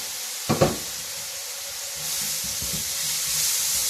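Steady frying sizzle of bananas in a pan, a continuous hiss with a couple of brief clatters near the start, close and fairly quiet.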